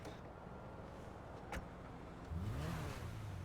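A car in GTA Online revs its engine on a test drive, a steady engine drone that swells into a louder rev near the end, with one sharp transient midway.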